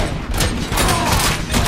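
Gunfire in the RoboCop video game, a dense, continuous barrage of loud overlapping shots and impacts that roars throughout without a break.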